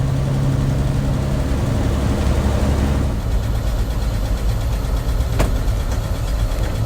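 A stock 1953 Chevy pickup with a 235 six-cylinder engine idles nearby, a steady low mechanical rumble with a slight change in tone partway through and a brief click near the end, no speech.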